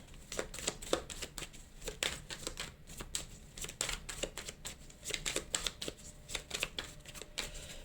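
Tarot cards being shuffled and cut into three piles, heard as quiet, close, rapid papery riffles and soft taps repeating throughout.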